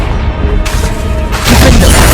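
Confringo explosive spell blasts in the Hogwarts Legacy video game, a loud booming burst that swells at the start and again near the end over continuous rumbling game noise.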